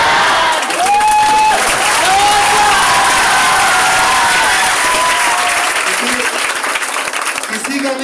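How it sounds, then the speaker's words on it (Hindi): An audience at a morning business gathering claps in sustained, loud applause that carries steadily to the end, with voices of the crowd and a tonal sound mixed underneath. "सब लोग ताली नहीं मार रहे, किसी को तकलीफ है?"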